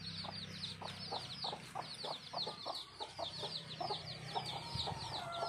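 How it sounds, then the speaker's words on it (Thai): Black chickens and many chicks in a simple bamboo coop. Thin, high peeping from the chicks repeats continuously over lower clucks from the adult hens, and the whole scene sounds close and fairly quiet. "มีลูกไก่เยอะมาก"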